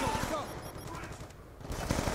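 Rapid automatic gunfire in the Black Ops 2 video game rattles in a dense burst of shots, loud and continuous through most of the moment, over game background noise.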